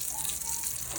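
Water is sprinkled over sun-parched plants, a brief soft hiss and patter of spray lasting about a second.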